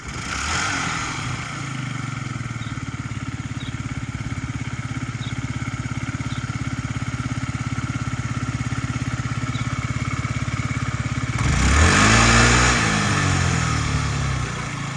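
A fuel-injected Yamaha Jog SA39 scooter engine idles steadily nearby, a quiet, low even hum with no faults, with a brief louder rev near the end.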